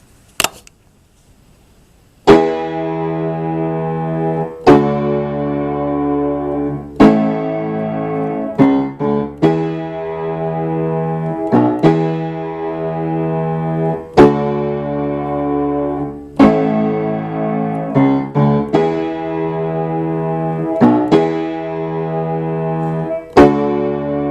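Piano notes played with both hands in octaves, struck in steady succession, each a full, rich tone ringing with deep bass under bright harmonics, played alone with no talking.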